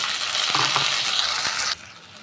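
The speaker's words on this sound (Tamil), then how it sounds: "இப்போ 2 தக்காளி பொடிசாக கட் பண்ணிக்கிட்டேன், அதையும் சேர்த்துக்கிறேன்." Bright, dense sizzle of onions frying for a spinach potato curry, with a few soft thuds as chopped tomatoes go in, then the hiss suddenly quiets.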